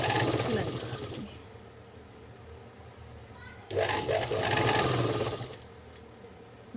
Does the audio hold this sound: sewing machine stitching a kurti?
yes